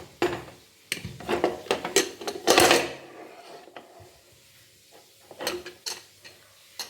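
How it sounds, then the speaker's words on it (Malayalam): A pressure cooker of jackfruit seed curry being opened in a kitchen, with close metallic clinks and clatter of the lid and utensils, then quieter handling noises. "കുക്കർ തുറന്ന് നോക്കാം."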